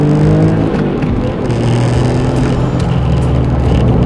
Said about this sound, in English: Oh yeah, definitely old school turbo